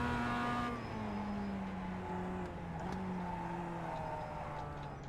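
Mazda race car with a sequential gearbox in the iRacing sim, engine droning steadily with shifting pitch lines as it accelerates, holding a loud continuous tone throughout.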